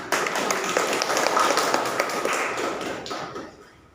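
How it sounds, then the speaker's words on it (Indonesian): A classroom full of students applauding, a dense steady patter of hand claps that fades out toward the end. "Tepuk tangan."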